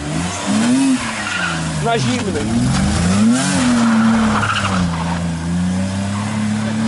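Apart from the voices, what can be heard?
old BMW engine starting from cold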